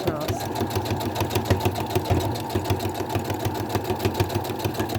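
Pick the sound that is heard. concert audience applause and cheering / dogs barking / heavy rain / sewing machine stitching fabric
sewing machine stitching fabric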